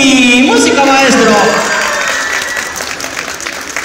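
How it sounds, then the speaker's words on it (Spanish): Audience applause at a live contest event, a dense wash of clapping and crowd noise with a voice calling out over it at the start, gradually thinning out. "¡La gente la aplaude!"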